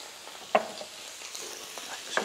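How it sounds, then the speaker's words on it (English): Flatbread sizzles in a hot frying pan during a farm cooking demonstration, a soft steady hiss broken by a few sharp clicks of the pan. "Put the flatbread just straight into the pan."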